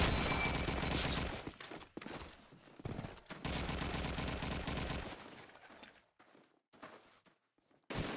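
Bursts of machine gun fire in a competitive video game match, loud rapid volleys broken by short gaps and quieter stretches, with no talk over them.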